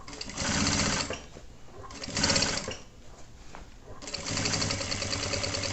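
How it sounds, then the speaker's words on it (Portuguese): A sewing machine stitches a shoulder bag in close, steady mechanical runs of rapid clatter, stopping and restarting three times, with soft speech in the gaps. "Costura com calma, com carinho, com um jeitinho que dá certo."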